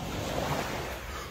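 Cold sea water washes onto the beach in Malaga in a steady, broad rush of surf mixed with some wind noise, with no talking.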